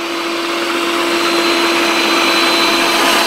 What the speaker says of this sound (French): Et donc là il passe l'aspirateur et en même temps le mode serpillière.